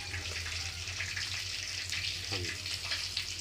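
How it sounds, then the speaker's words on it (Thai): Fish frying in hot oil, a steady dense sizzle and crackle running throughout, close by, with a low hum underneath and no voices. "ทอดปลา"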